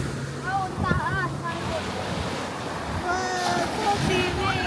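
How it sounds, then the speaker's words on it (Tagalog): Sea surf on a beach in Sariaya, Quezon, a steady broadband wash of breaking waves with wind across the mic, running continuously beneath faint voices of a family chatting nearby. "maganda ang dagat na. Nakaka-relax siya."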